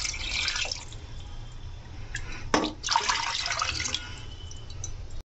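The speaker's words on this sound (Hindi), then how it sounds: "इसमें अच्छी तरीके से हम ये पानी डाल लेंगे" Water is poured into a gram flour (besan) batter for kadhi, a close, steady trickle and splash lasting several seconds and ending abruptly.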